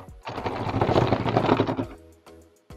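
A Haslab HISS toy tank rolls across a surface, giving a dense, rattling clatter of plastic treads that builds and holds for about two seconds, then stops, followed by a couple of light clicks.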